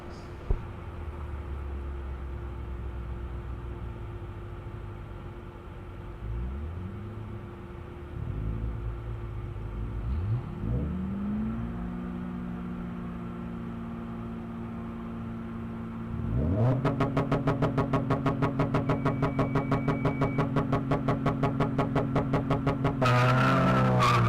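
Subaru BRZ race cars at a ProSolo autocross rev hard and accelerate in rising engine sweeps, ending in a loud buzzing, rapidly pulsing run with tire noise, close and alone.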